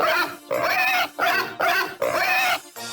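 Pigs in the video game Tombi! 2, three loud, close, drawn-out squealing grunts in steady succession, each about half a second, alone without talk.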